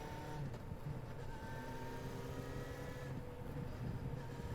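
A car's engine hums steadily as the clutch is let out and it pulls away slowly in Spirit Hunter: NG, a low, even drone under faint tonal background sounds, with no talk.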